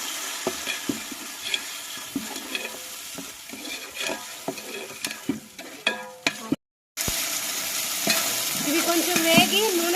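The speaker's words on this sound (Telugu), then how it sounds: "లవంగాయి ఆకు అన్నీ వేసేసుకొని కొంచెం ఫ్రై చేద్దాం." Whole spices, cloves and bay leaf sizzle in hot oil in a pan while making chicken dum biryani, a steady close crackle broken by stirring scrapes and one brief drop-out.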